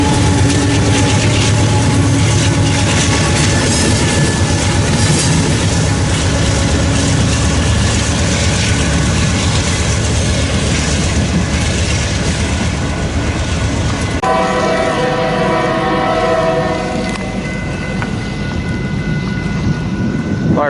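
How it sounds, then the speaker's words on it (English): A BNSF hi-rail vehicle runs westbound along the main line at Fremont, Nebraska, a loud, close, continuous engine and rolling rumble with rattling, shifting in tone partway through, no speech. "That was a westbound high railer for BNSF."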